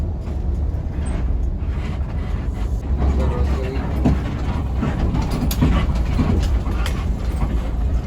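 A train rumbles past at a railway crossing, a loud, steady low roar with faint rhythmic clatter throughout.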